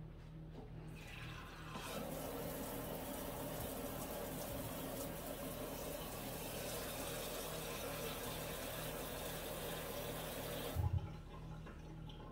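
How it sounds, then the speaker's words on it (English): Warm water gushes steadily from a tap into a container for about nine seconds. The rushing, hissy flow is close and loud, starts abruptly and stops with a brief knock. "I'm gonna take this and fill this with warm water."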